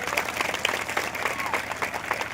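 A church congregation clapping together during worship, a dense continuous patter of many hands mixed with crowd voices.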